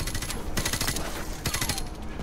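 Rapid bursts of automatic gunfire from Call of Duty: Modern Warfare Remastered, a few quick volleys fired in short succession, loud and close, with game ambience between bursts and no talk.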